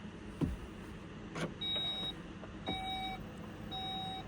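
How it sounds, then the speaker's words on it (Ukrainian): Power tailgate on an Audi e-tron 55 S line closing: a sharp thump, then a motor whir with steady electronic beeps repeating over several seconds, close by and without talk. "Чуємо характерний звук, це закриття."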